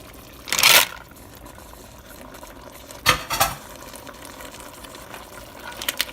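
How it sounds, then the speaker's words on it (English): A spoon stirs spaghetti sauce with mussels and shrimp in a metal pot, giving a few sharp clanks and scraping bursts over a quiet simmering background, close up with no talking. "Just stir it a little bit."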